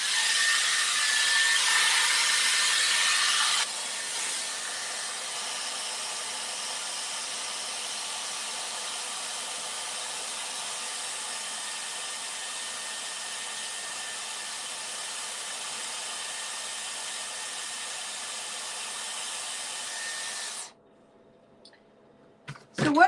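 A hair dryer blows with a steady airy roar, louder at first then settling to a lower setting before switching off near the end.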